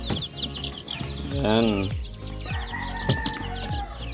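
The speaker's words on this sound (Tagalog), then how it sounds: "Ito lang sila mga ka-chicken, yung ating mga sisiw" Young chicks, a brood of sisiw about ten days old, peep and cheep in a busy overlapping chorus close by, with a brief spoken word in the background.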